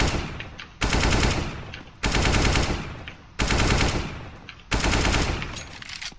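Video game rifle fire on the Mirage map in five-bullet sprays, four sharp loud automatic bursts separated by short pauses, close and dominant.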